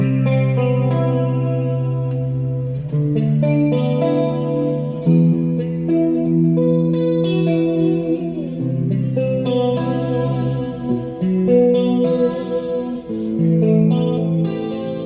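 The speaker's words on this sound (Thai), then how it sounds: "ต่อมา เป็นเสียงคีนคอรัส" Electric guitar through a BOSS GT-1 multi-effects pedal, drenched in a shimmering chorus effect, playing sustained chords and melody lines loudly and continuously, with no one speaking.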